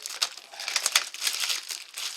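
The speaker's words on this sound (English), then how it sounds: "I'm going to remove the plastic just to get it out of my way." Plastic bag crinkles and rustles steadily as it is pulled off a central vacuum hose handle, a close, continuous crackling with a few sharper crunches.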